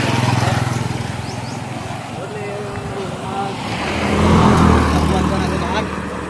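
A motor tricycle's engine runs steadily close by with a low throbbing drone that swells louder toward the end, while people talk over it.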